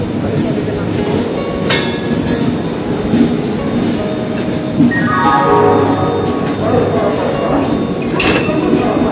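Howrah–Ranchi Express passenger train of South Eastern Railway pulling out of Howrah, with steady rumbling wheel and carriage noise, a rising squeal of wheels midway and metallic clinks, all close by and continuous.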